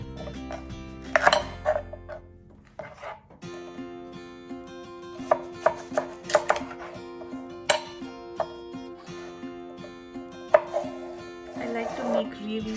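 Knife cutting thin slices of organic food on a cutting board while preparing a healthy snack, heard as a run of close, crisp strikes at an uneven pace, with some soft kitchen clatter between them and no talking.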